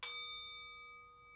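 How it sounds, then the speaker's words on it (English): Chinese cup gong, also called a singing bowl, struck once and left ringing, a clear metallic attack followed by several steady bell-like overtones slowly fading, quiet and alone. "This is called the Chinese cup gong, or you may know it as a singing bowl."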